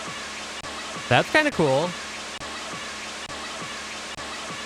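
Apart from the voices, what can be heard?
radio static sampled from Eurorack radio module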